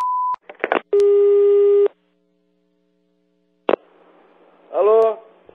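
Repeating telephone busy tone after a dropped prank phone call, a steady electronic beep heard clearly and loudly, followed by clicks, a quiet line and a brief voice.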